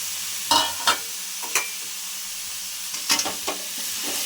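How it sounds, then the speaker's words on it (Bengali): Dried fish frying in oil and being stirred in a pan: a steady sizzle broken by several sharp scraping stirs, two near the start and a cluster later on, close and fairly loud with no talking. "মাছগুলো আমি এবারে কষাতে থাকবো যতক্ষণ না তেল ছাড়ে"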